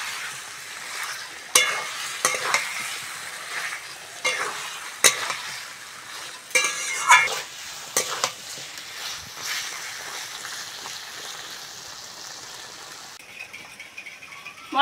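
Jackfruit stir-fried with spices in a pan, close sizzling under repeated scraping strokes of a spatula, irregular bursts of stirring over a quieter hiss.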